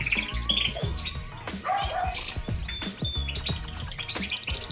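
Canary chicks in a nest give rapid, dense high chirps and tweets that continue without a break, with adult canaries of a bigamous breeding pair nearby in an aviary.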